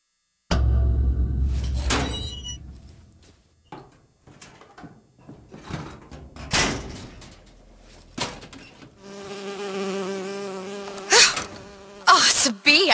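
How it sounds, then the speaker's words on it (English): A bee buzzes in BioShock Infinite, a steady whining drone that wavers in pitch and loudness, broken by soft thuds and clicks, strongest toward the end as it hovers close; no talk over it. "Oh, it's a bee."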